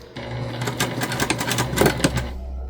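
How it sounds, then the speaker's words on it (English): Sewing machine stitching the sides of a fabric hair tool bag, a steady rapid mechanical whirring and clatter of the needle running continuously for a couple of seconds, close and loud with no talk. "we're going to keep going just like that on all 4 sides until we're complete"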